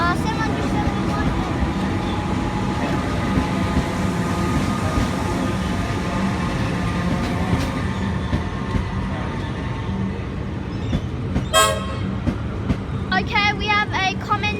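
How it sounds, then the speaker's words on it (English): A Melbourne suburban train bound for Flinders Street rolls into Caulfield station with a steady rumble and rail noise. It ends with bursts of high squealing and chirping near the close, and a voice speaks over it. "Flinders Street train now arriving."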